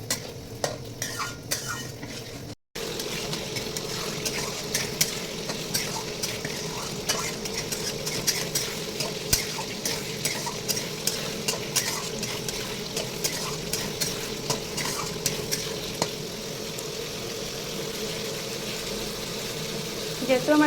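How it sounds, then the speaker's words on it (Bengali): Spices and water for egg biryani are stirred and sautéed in a pan, giving a steady sizzle broken by frequent scraping stir strokes, loud and close throughout, with a short gap near the start. "এইভাবে ভালো করে কষিয়ে নেব।"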